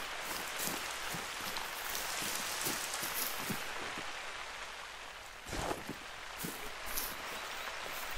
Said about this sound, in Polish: Kurde, pada jak diabli.